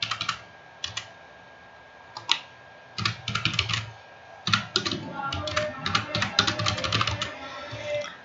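Rapid, uneven keystrokes on a computer keyboard while entering details into an online application form, coming in bursts with short pauses, close and fairly loud over a low background murmur.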